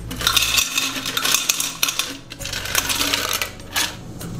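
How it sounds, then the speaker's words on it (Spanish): Ice cubes clinking and clattering into a serving pitcher for tepache, a quick run of bright, hard knocks and rattles that come close together, with brief pauses and no voices. "vamos a agregar un poco de hielo"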